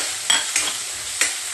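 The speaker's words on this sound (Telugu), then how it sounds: "ఆయిల్ హీట్ అయిన తర్వాత కొన్ని పోపు గింజలు వేసుకోవాలి. అలాగే ఎండుమిర్చి కూడా, తరుక్కున్న ఆనియన్ని కూడా వేసేసుకోవాలండి." Chopped onion, dried red chillies and seasoning seeds frying in hot oil, a steady close sizzle broken by three quick scrapes of a spoon stirring.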